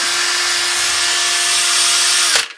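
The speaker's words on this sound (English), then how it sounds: "So I drill in at 45 degrees and then I twist the drill up" A power drill bores steadily into a BMW M3 throttle actuator housing at a 45-degree angle, its high whining motor holding one constant pitch up close before cutting off abruptly near the end.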